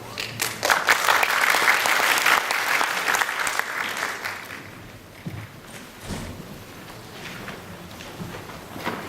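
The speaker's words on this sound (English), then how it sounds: "Let's give an applause to invite the Chief Operating Office of Taiwan Super Integration and Innovation Center, Ms. Wang Lingmei." A conference audience breaks into applause that is strongest at first, then tapers into scattered claps and light room noise over the last few seconds.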